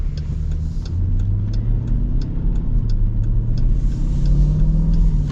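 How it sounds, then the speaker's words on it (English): A 2024 Dodge Durango SRT 392 V8 rumbling, a low, continuous engine growl with slight pitch shifts, heard close from inside the vehicle without any talking. "Got a nice rumble from the V8 too."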